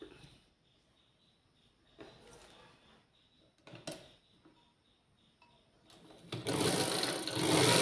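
A sewing machine stitches a petticoat in short bursts: quiet intermittent whirring and clicks at first, then a loud, steady run of rapid stitching that continues to the end.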